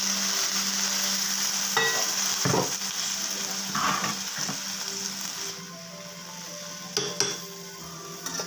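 String beans dropped into ginataang kalabasa, squash simmering in coconut milk in a pan, with a steady sizzle and a few stirring clatters and scrapes, close and continuous.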